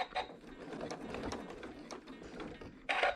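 A sewing machine stitches sashes on a hexagon quilt, whirring softly with a rapid mechanical rattle, then ending in a short louder burst.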